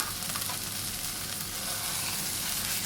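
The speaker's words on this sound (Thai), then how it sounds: "ผัดหมูสับให้สุกเลยนะคะ" Minced pork stir-frying in a hot pan, a steady close sizzle and crackle with faint stirring, continuous and even for a few seconds with no talk.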